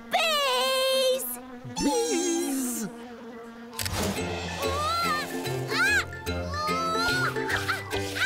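Cartoon bees buzzing with wavering, sliding tones close by, heard alone at first and then over light background music.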